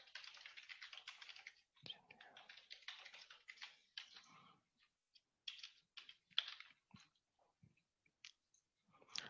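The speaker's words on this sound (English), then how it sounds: "I'm going to type in, a message back to you" Computer keyboard typing in bursts of rapid clicks, first dense and continuous, then sparser separate keystrokes with short pauses; close and fairly quiet, with no one speaking.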